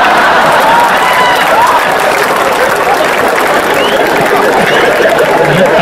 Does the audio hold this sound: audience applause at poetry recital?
yes